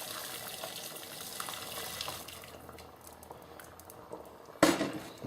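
Celery stock being strained and poured in a home kitchen while making cream of celery soup, a steady trickle of liquid running throughout with a few clinks of a pot, ending in a louder splashing pour.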